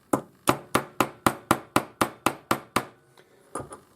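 Sharp hammer taps setting a rivet on a hinged ring, about eleven evenly spaced close strikes followed by a couple of softer knocks.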